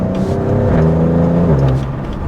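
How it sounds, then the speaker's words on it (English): A twin-turbo car on its stock exhaust accelerates with a deep, loud engine note, the pitch climbing then dropping through a gear change, close and steady with no talking. "For a stock exhaust, I'm very impressed with how deep the tone is."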